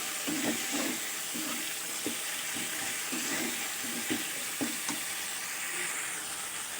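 Spice masala with chopped tomato and salt being fried down in a pan for a banana flower curry, a constant sizzle under repeated rhythmic scraping strokes of a spatula stirring the mixture.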